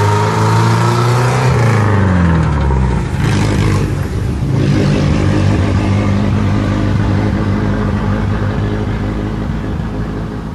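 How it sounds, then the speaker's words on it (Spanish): Cars drive past a garden in Villa La Angostura, loud and close, engines rising and then fading as each one goes by, one after another with no gap between them. "no paran de venir autos"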